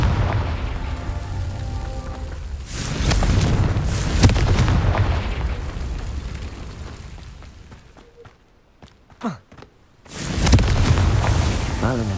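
The Confringo blasting spell goes off in Hogwarts Legacy with heavy booming explosions and a rumbling roar. The blast swells, fades into near quiet with a few faint pops, then erupts loudly once more.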